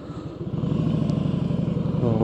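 Harley-Davidson motorcycle on a ride, a steady low engine rumble with pulsing exhaust beat under constant wind noise, close and continuous.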